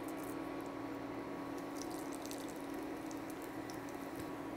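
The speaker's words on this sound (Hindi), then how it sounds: "अब हम इसमें डालेंगे जीरा।" Cumin seeds tipped into about five spoonfuls of hot oil for North African eggs give a soft, steady sizzle with faint crackles, quiet and continuous with no talk.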